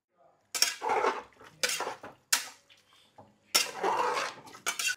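Metal cookware clanking close by while a pressure cooker of mutton biryani is being closed, a series of loud scraping and clattering bursts separated by brief pauses.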